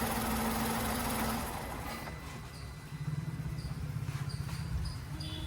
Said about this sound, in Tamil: என்ஜின் ஸ்டார்ட் பண்ணும்போது லைட்டாக வைப்ரேஷன் ஆகிறத பார்த்துருப்பீங்க.